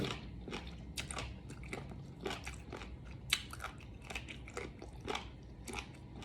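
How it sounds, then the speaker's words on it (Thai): Someone is biting and chewing a crunchy giant jellyfish snack up close, with sharp crackling crunches coming in quick irregular bursts and no talking. "กรอบมาก กรึบกรึบกรึบกรึบอะ"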